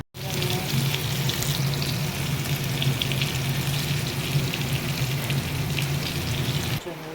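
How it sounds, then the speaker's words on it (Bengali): Curry sizzling and frying in hot oil in a pan in a Bengali home kitchen, a steady dense crackle running loud and close throughout with a brief pause at the very end. "আবার তেল দিয়ে কড়া তরকারিটাকে আবার বসালাম"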